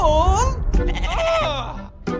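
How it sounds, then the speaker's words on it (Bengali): A goat bleats in wavering, nasal cries during an Eid Kurbani sacrifice-animal setting, with people's voices overlapping the bleats up close. "ছাগল"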